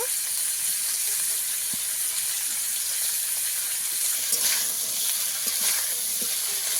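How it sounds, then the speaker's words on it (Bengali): Potatoes and drumsticks frying in a pan with turmeric and chilli powder, an even close sizzle with occasional soft stirring scrapes and small spatters. "এবার আমি আলু আর সজনে ডাঁটা একসঙ্গে আবারও ভেজে নেব।"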